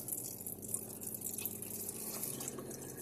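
Water running steadily from an RV faucet into a sink after the onboard water pump is switched on, a continuous splashing flow with slight sputtering, close and alone.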